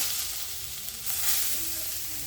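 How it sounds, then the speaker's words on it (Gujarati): A continuous close sizzle of grated beetroot frying in ghee, with a brief stirring scrape partway through. "હવે આપણે આ બધી બીટની છીણ આપણે ઘીમાં શેકી લઈશું"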